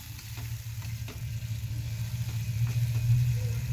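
Spice paste of ginger and cumin frying with chopped tomato for a pabda fish curry, a close continuous sizzle and crackle with soft stirring, building slightly louder, no voices.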